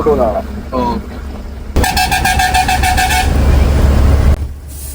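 A school bus air horn blares on a busy road in Jharkhand during a truck trip, a loud sustained honk over rumbling traffic and engine noise, with voices talking nearby.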